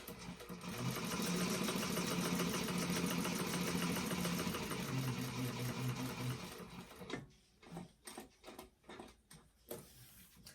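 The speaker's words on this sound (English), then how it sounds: "So I'm putting my stitch length back down to my sewing stitch length, back stitch" Sewing machine back stitching around a zipper pocket box, running in a fast continuous rattling burst for several seconds, then stopping and restarting in short separate stitch bursts.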